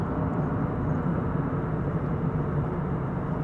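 An airliner making a go-around at DFW Airport, its engines giving a loud, continuous low rumbling roar that stays steady and close throughout the short stretch, with no talking.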